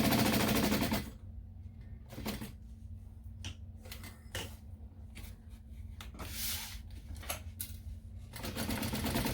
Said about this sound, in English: So we're going to sew this completely closed.